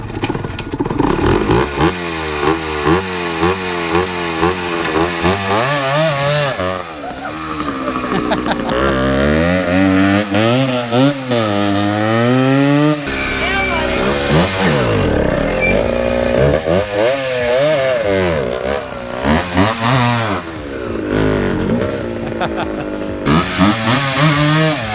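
A 1979 Yamaha IT175 two-stroke dirt bike revs hard and close. Its engine pitch climbs and falls again and again in loud, ragged sweeps, with voices talking over it.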